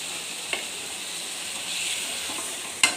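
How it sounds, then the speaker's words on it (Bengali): Chicken poured into a frying spice masala gives a steady, moderate sizzle with a couple of sharp clinks of utensil against the pan, close by and without talk. "এখন আমি চিকেনগুলো ঢেলে দেবো।"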